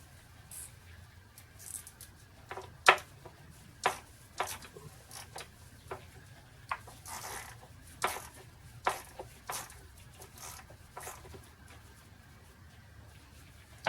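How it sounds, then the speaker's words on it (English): Screws being removed anti-clockwise with a T25 Torx bit on a Mercedes-Benz C250 W204, a series of sharp scattered ticks and clicks at irregular intervals, close and quiet, without talk. "To do this, we just need to take these screws out. Anti-clockwise."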